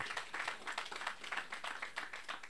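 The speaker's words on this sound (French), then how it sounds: "j'aimerais que toute l'assistance applaudisse M." An audience at the inauguration of the departmental SAEMSS headquarters in Mbour applauds M. Diaw, a faint, even spatter of many hands clapping, continuous and fairly distant.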